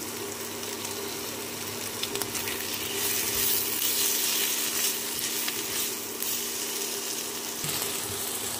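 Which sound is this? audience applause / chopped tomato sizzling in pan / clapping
chopped tomato sizzling in pan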